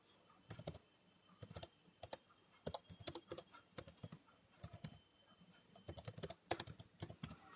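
Someone types on a computer keyboard while entering a search, producing quick bursts of clicking keystrokes in irregular clusters with short pauses between, close and fairly clear over a quiet room.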